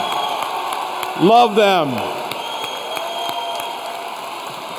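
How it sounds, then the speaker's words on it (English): Graduation ceremony crowd giving a sustained round of applause and cheering, a dense, steady wash of clapping throughout with a loud amplified voice speaking over it and a brief whoop partway through. "give them a thunderous round of applause"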